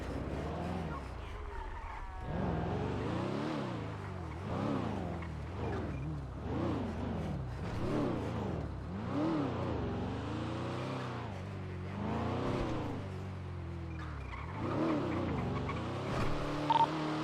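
A red BMW flees southbound in GTA NoPixel, its engine revving up and down over and over in loud, sweeping surges with tire noise, close and continuous for the whole stretch.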